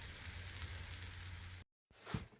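Small homemade potato and cauliflower rösti frying in a pan, a soft steady sizzle that cuts out briefly, then returns.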